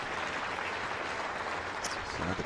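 A tennis crowd at a women's match in Hobart applauds after a point, a steady wash of clapping under a commentator's voice.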